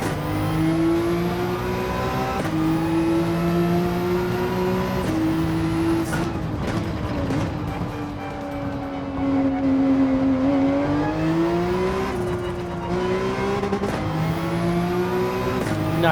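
A race car engine in Gran Turismo, revving hard and climbing through gears in a sprint race, each upshift cutting the pitch before it rises again, loud and steady with no talk.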